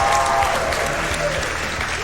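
Dense, loud applause from a crowd fills a Games Done Quick speedrun event hall, sustained and even throughout the short moment.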